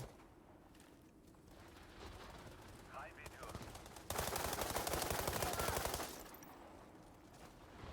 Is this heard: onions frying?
no